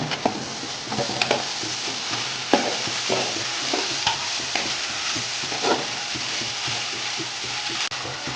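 A spatula scrapes and stirs ginger-garlic through onions frying in a pan for chicken biryani masala, with steady sizzling and repeated close scraping knocks, no talk.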